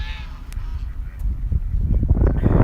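Geese and ducks honk and quack at a park pond, a few calls close by against soft outdoor background noise, growing busier toward the end.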